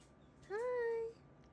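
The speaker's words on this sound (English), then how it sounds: "I don't know if you can hear this egg, but it's chirping back." A duckling inside its egg gives a single thin, high chirp that rises and holds for about half a second, faint and close against quiet background hiss.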